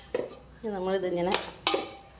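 Dough being mixed with a stuffing of carrot, onion, curry leaves, coconut, mustard seed and coconut oil in a bowl, with a few clinks of a utensil against the dish around a short hum of voice.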